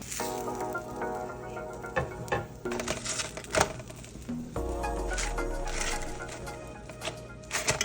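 Chicken pieces sear in a hot pan with a moderate, crackling sizzle, broken by a few sharp clanks and scrapes as pieces are moved.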